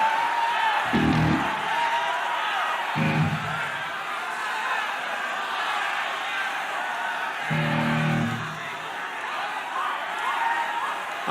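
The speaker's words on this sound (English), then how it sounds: "I like how polite the crowd sounds." A crowd keeps up a steady, lively roar of cheering and shouting throughout, with a few louder, deeper voiced bursts rising above it near the start and middle.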